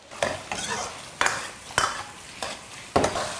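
Bamboo shoots stir-fried in a wok with garlic, rice wine, soy sauces and oyster sauce, giving soft sizzling under repeated spatula scrapes and tosses, about six distinct stirring strokes close up with no talk.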